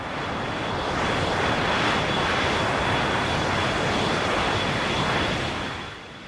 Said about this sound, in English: a plane flying overhead in the distance